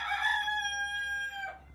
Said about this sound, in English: That chicken is non-stop.